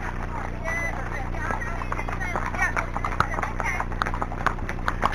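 A Friesian horse breaks into a jog, its hooves clip-clopping in a quick, uneven beat that sharpens toward the end, heard beneath a voice talking over it.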